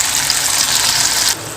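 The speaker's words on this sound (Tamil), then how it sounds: "கொஞ்சமாக தண்ணியும் சேர்த்துக்கலாங்க." Water gushes steadily into a cooking pan holding tomato paste and curry masala, a loud close hissing pour that stops abruptly after about a second and a half.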